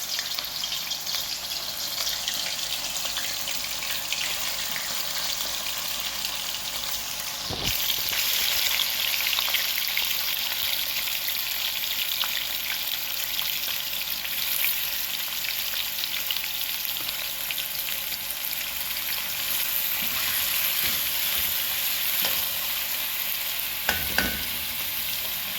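Mutton chops frying in hot oil make a loud, steady sizzle that runs throughout, with a sharper burst partway in and occasional stirring clatter near the end.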